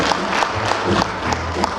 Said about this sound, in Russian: Давайте еще поддержим аплодисментами.